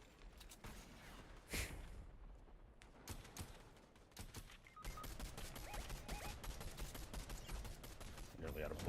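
Gunfire from the Fortnite video game crackles in rapid bursts and sustained volleys, loud and close, with a few single shots early and a dense stretch of firing in the second half.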